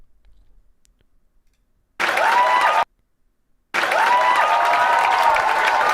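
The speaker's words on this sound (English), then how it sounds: "I'm looking for the applause track with people screaming. Indoor theater applause medium 3." Two bursts of indoor theater applause, dense clapping with a few cheers, cut off abruptly with a silent gap between them.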